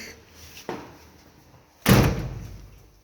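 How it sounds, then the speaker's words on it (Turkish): A door swings shut in an apartment building hallway with a sharp slam, preceded by a softer knock-like thud; the bang is close and loud, then rings out briefly. "Kapıyı kapatalım arkadaşlar."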